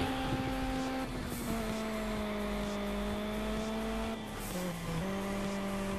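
Race cars driving and drifting in the video game Juiced 2, a steady loud engine drone with sustained harmonic tones that dip and shift pitch as a car slides through a turn, with no talk over it.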